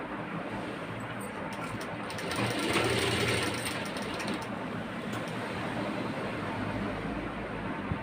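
A sewing machine stitches a piping strip onto a lined blouse, a busy continuous mechanical whirr with rapid clatter that swells slightly midway and carries on steadily without talk.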